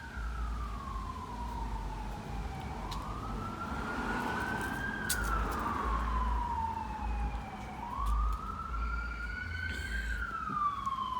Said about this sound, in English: They keep going with the sirens, huh?